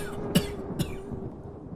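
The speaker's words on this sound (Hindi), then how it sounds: "बहुत खांस रहे थे" An elderly man lying on a cot coughs twice in short, faint bursts, with a steady low hum continuing underneath.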